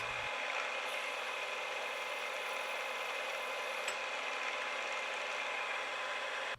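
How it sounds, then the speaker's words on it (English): A continuous mechanical whir of a twist drill boring a hole to full depth holds steady from start to finish, with a brief click partway through, close up and without speech. "Then swap it out for a twist drill and drill to full depth."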